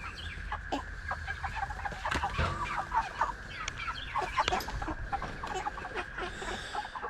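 Cornish Cross meat chickens cluck and murmur continuously at close range on a homestead, with scattered sharper calls and squawks rising over a busy flock.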